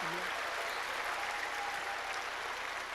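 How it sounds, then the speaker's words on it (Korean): A church conference audience gives a dense, continuous round of applause for Jesus, loud and even throughout with no voices standing out. "Would you give Jesus a great big round of applause?"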